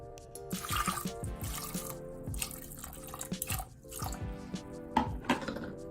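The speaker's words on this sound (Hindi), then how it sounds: "तो एबे इठे हमें किछि पानी ऐड करबा।" Water poured into a pot of cooked rajma (kidney beans) in a pressure cooker, with splashing and dripping trickles over steady background clatter and hum.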